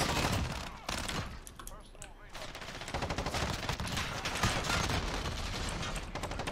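A submachine gun fires in rapid bursts in the video game Modern Warfare, loud and close and almost continuous, with a short lull before the shooting picks up again.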